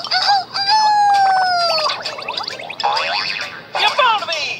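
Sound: rooster crowing in a Sesame Street VHS

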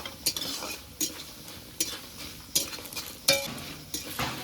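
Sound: lentil dumplings (bori) frying in a pan

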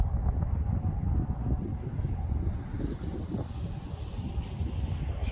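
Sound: wind outdoors

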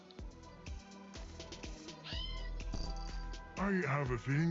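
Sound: cat meowing in the video game There is No Game

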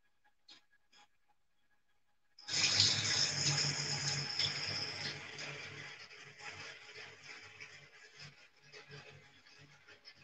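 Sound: running tap water in a sink

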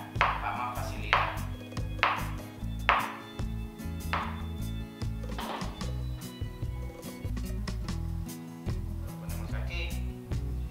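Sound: chopping food into small pieces

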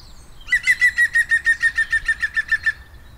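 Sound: European green woodpecker laughing call

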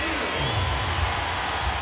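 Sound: basketball arena crowd cheering a foul call

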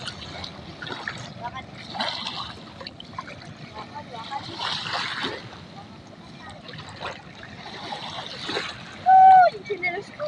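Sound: children splashing in the sea

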